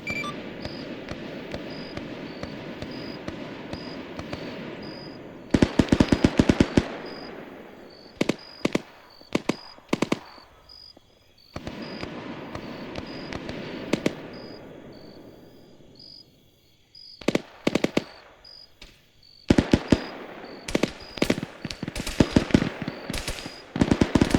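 Bursts of rapid gunfire in a military video game, clustered volleys of sharp shots cutting in and out over a steady background hum and ambient chirping, some near and loud, with gaps between salvos.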